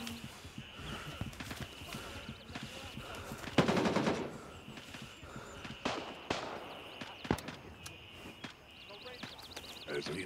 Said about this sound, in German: der schießt wieder durch den Container